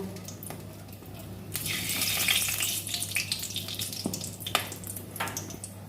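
Whole cumin, bay leaf, cardamom, cinnamon and cloves fry in hot oil for a Bengali ol-aloo dalna, giving a steady sizzle that swells loudly midway, with a few clinks and stirring knocks near the end and no talking.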